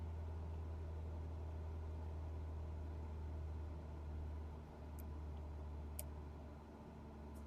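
A Reims Rocket aircraft engine in a flight simulator drones steadily with a deep, constant hum, sagging briefly partway through as the revs are pulled back, then settling into a slightly lower steady drone.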